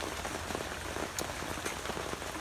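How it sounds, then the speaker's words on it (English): Rain falls outdoors beside a lake as a dense, steady hiss of drops hitting the surface, with a few louder nearby splats standing out from the even wash. "I'm just gonna look at the lake for a little bit and enjoy the rain."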